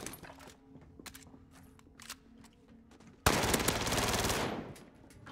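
Call of Duty Warzone gunfire: a few scattered distant shots, then a sudden loud, sustained automatic burst lasting about a second and a half before fading.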